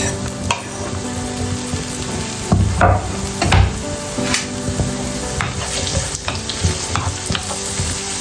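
Meat filling for stuffed zucchini sizzles steadily in a frying pan while a utensil stirs and scrapes through it, with a few louder clattering stirs midway; close and continuous, no talking.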